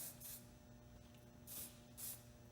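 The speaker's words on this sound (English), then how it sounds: "going to spray a little bit more." Two short bursts of hairspray hiss from an aerosol can, close by, separated by a pause, over a quiet background.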